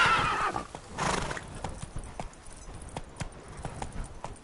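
Roach, the horse in The Witcher 3: Blood and Wine, gallops with a steady run of hoof clip-clops and snorting whinnies, close and clear, with a brief neigh near the start.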